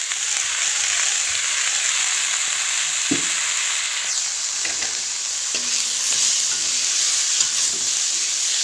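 Madhulong tenga, a sour ingredient, sizzles steadily in hot oil while cooking for an Assamese recipe: a continuous, fairly loud frying hiss with occasional soft stirring knocks, and no talking.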